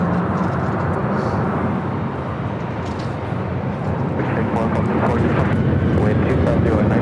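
A Lufthansa jet airliner takes off for the north side of the runway, a loud, steady roar that fills the whole stretch and swells slightly toward the end, with a voice faintly audible underneath.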